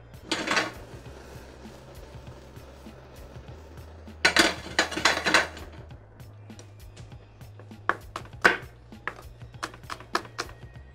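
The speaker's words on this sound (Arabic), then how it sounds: "ابدا اقطع الفلفل بالشكل ده" A knife chops bell peppers on a board in a kitchen, giving a few quick bursts of sharp, close taps separated by quieter gaps.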